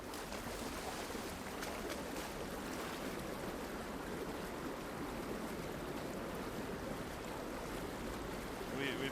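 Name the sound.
water filling a container in the video game Horizon Forbidden West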